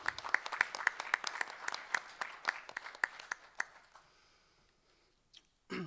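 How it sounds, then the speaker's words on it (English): An audience claps steadily for a few seconds, the applause thinning and fading out to quiet, followed by a brief rustle at the end. "let's give Kristen a round of applause as well"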